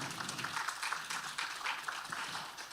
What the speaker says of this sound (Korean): 여러분 한 번 더 박수 부탁드리겠습니다